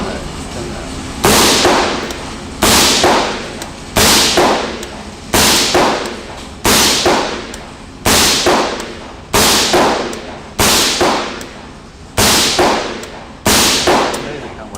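A suppressed CZ Bren 2 rifle in 5.56x45mm fires ten evenly spaced rounds at an outdoor range, each a sharp loud crack with a short decaying tail, about one shot every 1.4 seconds.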